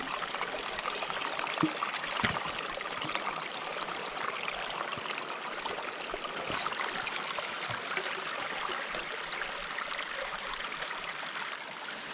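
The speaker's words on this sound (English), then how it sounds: "Trying to find some running water in a stream to fill up all of our bottles." A shallow mountain stream of running water at a campsite, where bottles are being filled, trickles and gurgles steadily and close by with no one talking.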